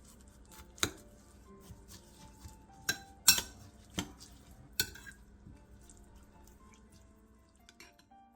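Chopped vegetables mixed by hand with soy sauce seasoning in a bowl for a Korean dipping sauce: quiet, sparse clinks and taps of a utensil against the dish at irregular intervals over a soft background, no voices.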